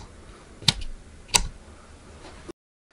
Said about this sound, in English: it makes very satisfying clicky noises